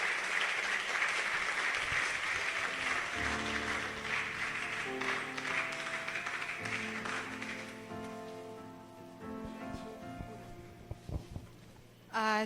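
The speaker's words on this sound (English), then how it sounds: "A round of applause as he makes his." An audience claps during the welcome address at a talk event on youth and African economic development, a dense wash of applause that fades as music with a steady rhythm comes up underneath.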